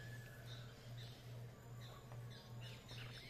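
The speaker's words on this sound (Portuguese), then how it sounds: "Olha que cantar de pássaro, maravilhoso, gente" Birds calling and chirping at daybreak beside the flooded Miranda river, with scattered bright squawks and tweets over a steady low hum, fairly distant and continuous.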